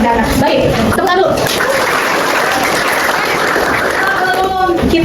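A classroom of students bursts into applause after a group presentation, dense steady clapping close and loud for several seconds with scattered voices and laughter mixed in.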